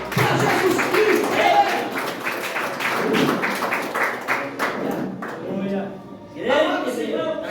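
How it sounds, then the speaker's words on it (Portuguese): A church congregation claps their hands in quick, uneven bursts of rhythmic clapping, with voices talking over them and a brief pause before a final flurry. "glorifica a Deus com as palmas bem alegre, bem forte, para Jesus Cristo"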